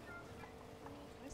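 Gobbling, clucking poultry calls from chickens in the video game Fortnite, faint and warbling amid a steady wash of game noise.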